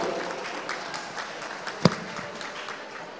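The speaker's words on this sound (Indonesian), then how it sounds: "Kita beri aplaus untuk Pak Cosmas terlebih dahulu" Audience applause for Pak Cosmas at a book discussion event, a steady, moderate patter of clapping from a seated crowd, with one sharp louder clap standing out partway through.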